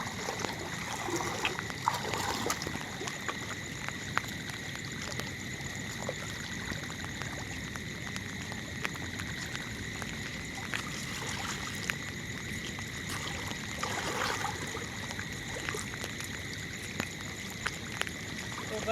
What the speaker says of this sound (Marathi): आत्ता आपण आलेलो आहोत रात्री बघा पाऊससुद्धा खूप पडतोय